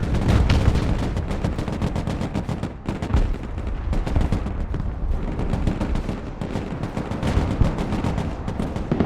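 Marines open fire in the video game Broken Arrow: dense, sustained automatic gunfire with rapid overlapping shots and booming impacts, loud and close throughout.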